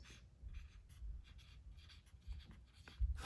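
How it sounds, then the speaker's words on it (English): Pencil or pen writing beside a cartoon face drawing on paper, faint soft scratchy strokes in short irregular bursts. "I'm gonna write it at the side"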